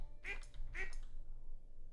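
A farm duck in Stardew Valley gives two sharp quacks about half a second apart, close and distinct over a quiet low background hum.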